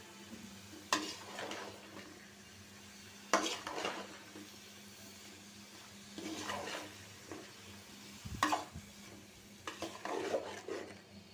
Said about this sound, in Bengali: পাঁচ মিনিট কষায় নি।